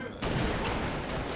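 Gunfire in the Halo Reach video game, a dense burst of shots that starts abruptly and keeps crackling loudly, with voices mixed in.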